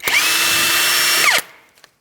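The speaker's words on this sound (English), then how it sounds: "Let's continue removing our 24mm jam nut." A power tool spins off a 24mm jam nut on a 2007-2014 Ford Edge inner tie rod in one loud, steady close-up whir of about a second and a half that winds down abruptly, followed by a faint clink.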